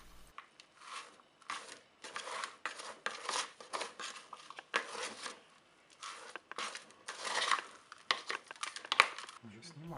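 Potting mix of peat, pine bark pieces, charcoal, perlite and sphagnum moss for an anthurium is stirred together by hand, making soft irregular crunching, rustling and crumbling bursts, close and fairly quiet, that repeat throughout.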